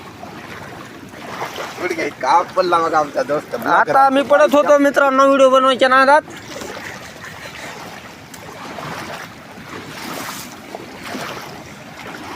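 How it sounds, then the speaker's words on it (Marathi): Heavy floodwater rushes steadily through a sugarcane field after torrential rain in Naigaon, a constant broadband roar running beneath someone talking loudly close by. "ऊसातून किती मोठं पाणी वाहिलेलं आहे"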